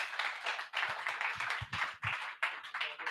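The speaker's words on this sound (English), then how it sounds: "Please give Paul a big round of applause." Scattered clapping from a small audience at a WordPress London meetup, uneven and choppy with bursts and gaps, fairly close, with thumps of movement in between.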